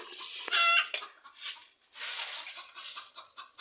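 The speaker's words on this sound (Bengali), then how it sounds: "আমার রান্নার সময় প্রত্যেকটা ফুটেজেই কিন্তু আপনারা এই মুরগির আওয়াজ পাবেন।" Native hens clucking near a home kitchen during cooking, a few loud squawking calls in the first second followed by repeated clucks and cackles close by.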